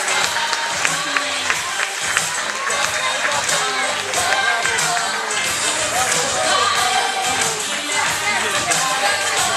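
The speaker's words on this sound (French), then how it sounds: "On les applaudit." Dense crowd clapping at a fashion show in Saint-Denis carries on for about ten seconds, with scattered cheers and thumps blended into the continuous applause.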